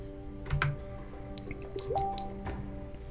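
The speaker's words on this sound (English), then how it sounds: "refill my water bottle." A water bottle being refilled, with dripping and splashing liquid sounds mixed with faint squishy handling noises, close by and fairly quiet, over a steady background hum.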